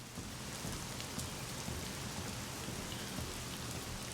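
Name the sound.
heavy rain in video game The Medium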